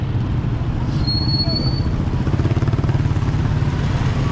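Afternoon street traffic with motorcycles and cars, a steady, close engine rumble and idling drone that holds throughout, with no clear talk over it.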